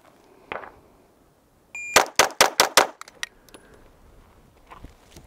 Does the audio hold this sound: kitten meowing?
no